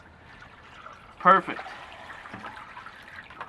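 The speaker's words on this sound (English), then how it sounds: "Alright, so the water's coming out." Water pours from a bucket into a 20-gallon DIY aquarium sump, a brief splashing gush followed by a softer ongoing trickle, with someone speaking briefly over it.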